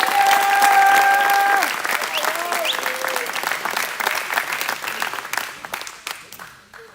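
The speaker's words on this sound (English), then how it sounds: "Let's give a round of applause for Milo Staley" A crowd at a men's NCAA gymnastics meet applauds steadily, dense clapping that gradually thins and fades out, while a few cheers and whoops rise briefly near the start.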